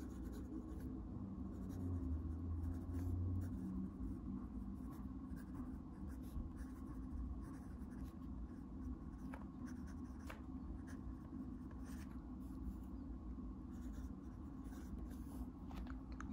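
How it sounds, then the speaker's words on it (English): Vintage 1970s Montblanc 146 fountain pen nib writing on paper with a smooth, steady scratch of continuous strokes, faint and close, with no talking. "Do a quick writing sample."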